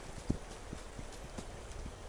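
Horse hooves clop in a video game as a rider moves along, a few soft, spaced hoof strikes with one sharper hit near the start, faint against a low background.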